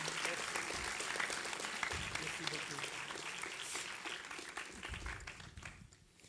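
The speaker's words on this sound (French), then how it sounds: "A big applause to you." An audience applauds Yves at a bilingual event, a distant, quiet, continuous patter of many hands with voices faintly mixed in before the clapping trails off at the end.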